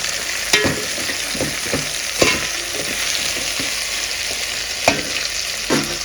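Chopped tomato pieces fry and sizzle in a pan for chicken kushka, a steady close crackle broken by a few sharp knocks of a spoon stirring against the pan, with no voices.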